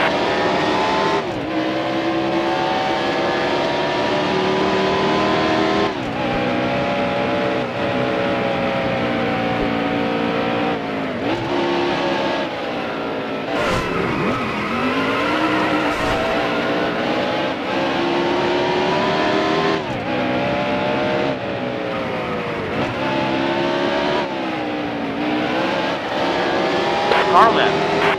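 Race car engines in the NASCAR Heat Evolution video game roar loudly and continuously, the pitch rising and falling through gear changes as cars run close together, while a spotter's voice talks over the engine noise.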